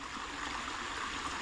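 Fresh spring water pours steadily from a newly connected pipe out in a rural field, a soft, continuous trickling rush heard faintly and close by.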